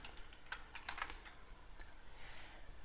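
Quiet, close typing on a computer keyboard comes in a few quick bursts of soft key clicks over faint room noise, with no talking.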